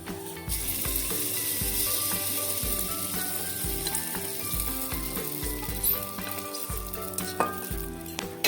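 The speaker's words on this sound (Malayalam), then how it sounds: "കടുക് ചേരുന്ന വരയ്ക്ക് വശമുളകും കറിവേപ്പിലയും ചേർത്ത് കൊടുക്കാം" Mustard seeds, dried red chillies and curry leaves sizzle in hot oil as a tempering for Kerala jackfruit curry: a steady, close crackling hiss that runs throughout, with a rhythmic tonal layer beneath it.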